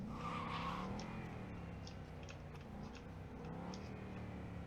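A car in Cyberpunk 2077 rolls up, its engine droning steadily while tires squeal and skid faintly, moderately close throughout.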